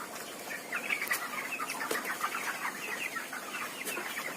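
A flock of chickens clucks continuously at a moderate distance, a busy chatter of overlapping calls with occasional sharper squawks.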